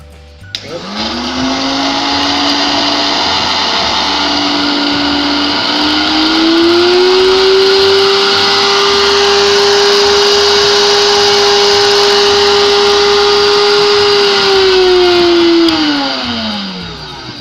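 A high-speed smoothie blender motor runs steadily and loudly on its own for about fifteen seconds, its pitch rising partway through as the speed is turned up, then winding down at the end.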